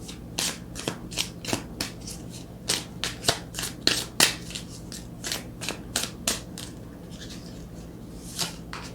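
Tarot cards being shuffled by hand, heard up close as a steady run of crisp riffling and flicking strokes over several seconds with no talk.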